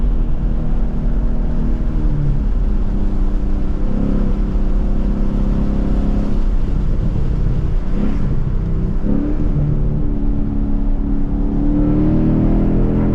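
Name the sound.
2020 Mustang GT engine driving mountain road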